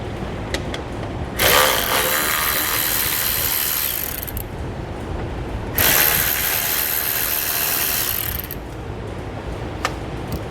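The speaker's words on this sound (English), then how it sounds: "We're going to remove the 6 Torx head bolts that run across the top of our grill." A T15 Torx bit works through the six Torx head bolts along the top of a grill during a base plate install on a 2016 vehicle, giving two long bursts of close, buzzing ratcheting with brief quiet gaps and small clicks.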